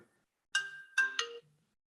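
A phone ringtone goes off during a recorded interview, a short melodic chime of three quick tones, fairly soft, with no talking over it.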